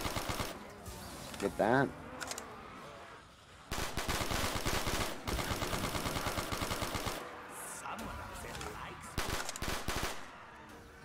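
Automatic MP40 gunfire in a Black Ops 3 custom zombies map, loud rapid bursts broken by short pauses over busy game noise, with brief talk.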